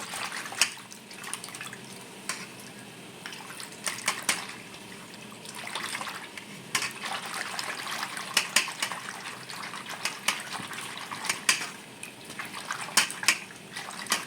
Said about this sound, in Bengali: এই যে চুনের জলের ভিতর কুমড়োগুলো দিয়ে দেবো।